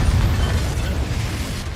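A Confringo fire-blast spell goes off in the Hogwarts Legacy video game: a loud, close, broadband explosion that rumbles heavily in the lows and decays over a couple of seconds.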